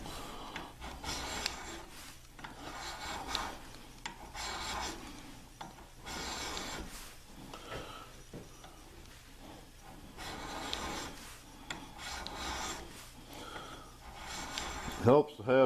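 A hand file rasps across the metal of a long-range target sight being built for a T/C Hawken rifle, in rhythmic close scraping strokes with brief pauses, while a person talks quietly throughout.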